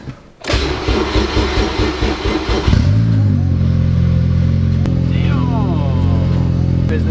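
A boosted K20-engined Honda Civic starts up: a cranking whir, then the engine catches with a loud burst and settles into a steady, slightly lumpy idle close by.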